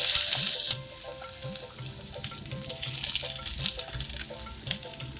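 Chopped onions sizzle in hot oil with cinnamon and cardamom for a chickpea chole dish, a steady frying hiss with intermittent spoon-stirring clatter and scraping near the pan.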